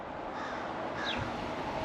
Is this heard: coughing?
no